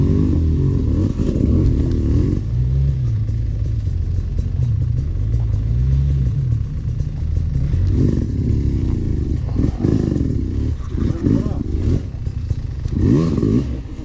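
Several motorcycle engines rev hard on a hillside near the village of Yasenovo, a loud, continuous rumbling roar with rising and falling revs and occasional clattering bursts, with no talking.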